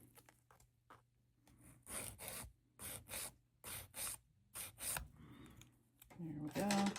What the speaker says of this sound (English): Let me file this nub off the end